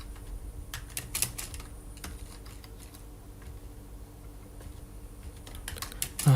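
Fingers type on a computer keyboard while entering VBA code for a payroll calculation, producing irregular close clicks and taps in quick bursts with short pauses.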